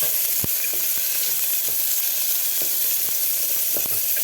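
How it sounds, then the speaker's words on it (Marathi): Finely chopped onion sautés in a hot pan for Kolhapuri misal, a steady close sizzle with a few light stirring knocks from the spoon. "ते घालून आपल्याला व्यवस्थित परतून घ्यायचा आहे कांदा"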